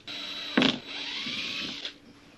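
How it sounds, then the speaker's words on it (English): A power drill bores into the plastic hull of a Pelican Argo 100XR kayak, one short loud burst of drilling over a steady whine, with no talk. "I'm going to drill it out and see where it goes"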